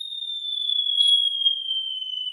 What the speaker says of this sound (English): sound of a falling bomb from World War era?